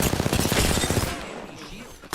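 Enemies open fire in a sci-fi shooter game, a dense rapid burst of automatic gunfire hammering loudly for about a second before it cuts off, leaving quieter game ambience and a final sharp shot.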